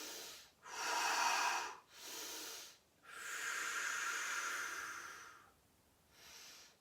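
Slow, deep breaths during a seated chair yoga stretch, long airy inhales and exhales rising and falling in a steady rhythm, close and breathy with no speech.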